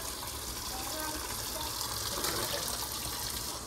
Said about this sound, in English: Yeah, I need more water too. Getting water.